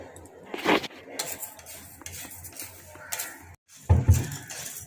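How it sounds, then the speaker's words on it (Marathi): Dry urad dal being roasted in a kadhai for bhajani chakli flour, heard as scraping spatula strokes and clinks of metal against the pan, with a louder clatter near the end. "आता उडदाची डाळ भाजून घेऊ आपण"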